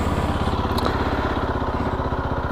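A Zontes 310X motorcycle engine runs just after starting, a close, loud, steady idle with a fast even pulsing throb and no speech.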